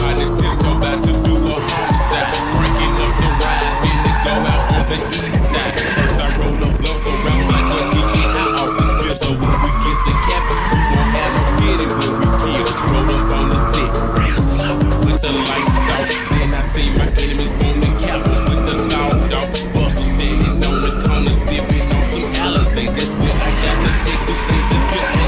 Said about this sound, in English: here's an absolutely insane street drifting POV.